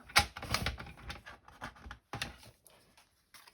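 Scissors snipping paper or card for a layered card craft project, a quick run of close crisp cuts followed by a second burst and quieter handling.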